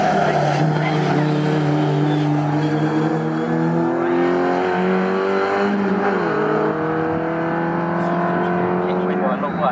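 Race cars accelerating hard past the line at Snetterton circuit, engines roaring loud and steady with rising pitch shifts as gears change, heard alone with no talk.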